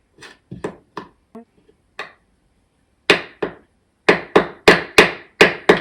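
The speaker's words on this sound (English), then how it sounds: "Let me remove one of them to see what the damage is going to look like. Tiny hammer, that's all I need is a tiny hammer." A tiny hammer taps against tacked-in nails in wood, first in light scattered knocks, then in a run of sharp, evenly spaced strikes that ring close and loud.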